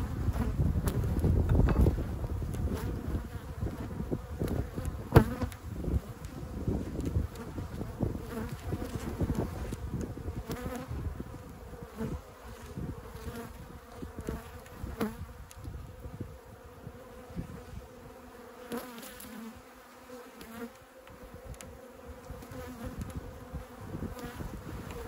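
Aggressive honey bees swarm and buzz around an open backyard hive, a dense steady drone of many insects close by with occasional light tapping and handling noises.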